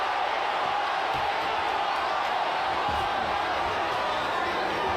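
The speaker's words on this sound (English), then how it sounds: "This crowd already in full voice." Boxing arena crowd during the Ryan Garcia versus Oscar Duarte fight, a steady roar of cheering and shouting that fills the whole stretch, loud and continuous with no clear voice standing out.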